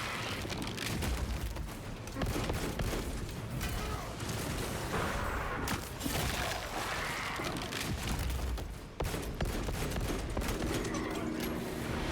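Dense video game gunfire and explosions from Space Marine siege combat play as a continuous, busy barrage of shots and booms at steady loudness.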